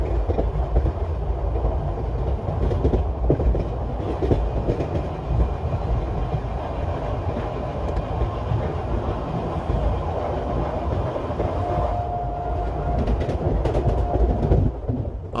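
A long-distance passenger train from Howrah toward Gwalior runs fast at night, heard from inside as a loud, unbroken rumble with rhythmic rattling of the wheels on the rails.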